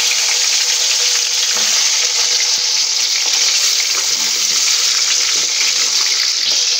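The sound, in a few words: pointed gourd (potol) frying in oil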